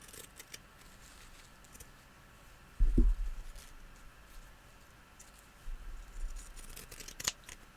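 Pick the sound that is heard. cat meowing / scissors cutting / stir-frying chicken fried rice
scissors cutting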